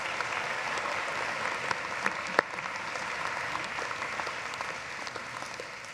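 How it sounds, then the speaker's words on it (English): Steady applause from a commencement audience in a large arena, clapping for the musicians. Dense, even clapping carries through the whole stretch, with one sharp louder clap or knock standing out briefly partway through. "Let's give them a round of applause."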